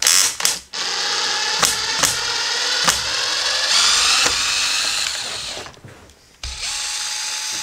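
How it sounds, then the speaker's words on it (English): A cordless power drill during a home bedroom remodel, whining loudly in a long continuous run broken by a few short stops and a ratcheting clutch click, close and alone, with a brief dip before it starts again. "Should use my drill."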